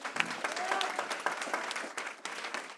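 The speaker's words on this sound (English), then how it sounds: "Give them a round of applause" An audience at a town hall meeting on crime gives the production crew a round of applause: a dense patter of claps, fairly faint and distant, rising and thinning over about three seconds.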